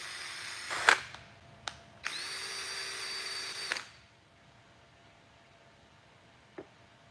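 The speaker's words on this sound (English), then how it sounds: "This is the way I clean off my drills right here." A power drill in a workshop whirs in short bursts, two quick blips and then one sustained run of about two seconds, close and fairly loud, before the shop goes quiet apart from a faint click.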